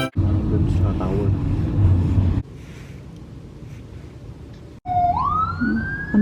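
A wailing ambulance siren passes on a street in Barcelona, loud and close with rising and falling sweeps, heard over steady traffic rumble and a brief burst of chatter before it.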